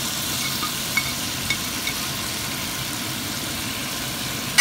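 Onions stirred in a frying pan while cooking rollmop herring, giving a steady, close sizzle with a few light scraping taps of stirring.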